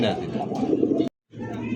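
Pigeons at a pigeon farm coo softly close by, their low murmuring running underneath someone talking, with a short gap of silence partway through.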